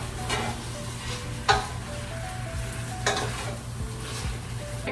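Seasoned food with pepper and paprika sizzling in a pan, a steady close frying hiss broken by a few sharp scrapes and knocks of a spoon stirring it, no talk.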